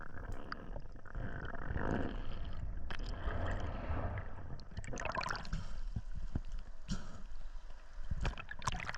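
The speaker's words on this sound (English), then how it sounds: "as I come up and look on the rocks to my right, I hear water rushing" Water rushes and gurgles against rocks at Miller's Point, Cape Town, heard as a spearfisher surfaces, a steady, close, churning wash with splashy bursts and bubbling throughout.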